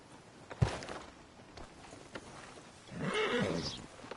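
A horse in the Red Dead Redemption II video game, with one sharp hoof clop, a few soft steps, then a rising neigh toward the end, quiet and somewhat distant.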